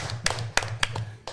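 A few scattered hand claps, roughly five, crisp and fairly close, with short gaps between them.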